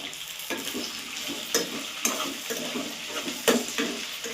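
Onion, capsicum, beans and green chillies fry in a pan with a steady sizzle. Regular stirring strokes and scrapes land about every half second, close and moderately loud, with no talk.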